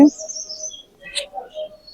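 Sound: birds chirping

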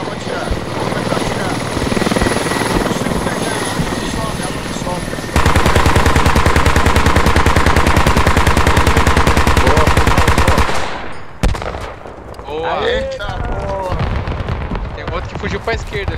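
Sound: gunfire in a video game

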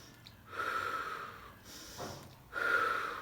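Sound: breathing in through the nose, out through the mouth

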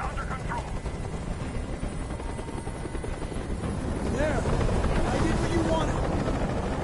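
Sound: helicopter hovering, in a video game

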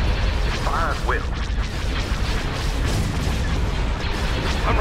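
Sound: space battle weapons fire in the video game Thrawn's Revenge

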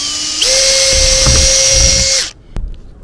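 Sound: drilling holes in a cargo trailer roof

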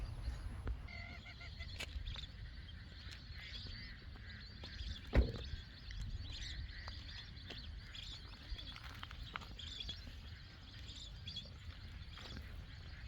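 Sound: ducks on the water

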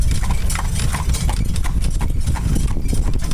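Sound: horse-drawn Amish buggy hooves clip-clopping

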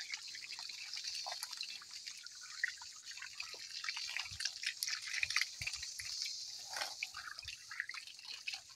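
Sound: water dripping while watering planted fig cuttings

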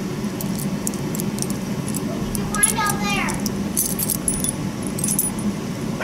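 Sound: old skeleton keys jangling

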